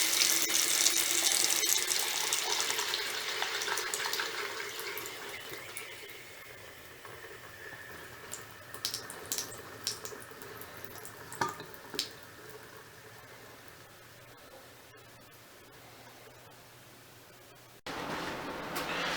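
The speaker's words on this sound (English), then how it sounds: "Let water go from the lower point as is possible." Water drains out of a household plumbing system into a basket while water valves for a utility sink are being installed. A loud, close gush at the start fades into a quieter trickle with scattered drips, and no one speaks.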